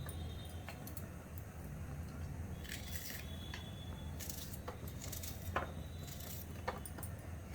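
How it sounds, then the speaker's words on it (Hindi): An onion being sliced with a knife, a few crisp, soft cuts at irregular intervals, fairly faint against a steady low background hum, with no talking. "तो इस तरह से काट दे रहे हैं प्याज को"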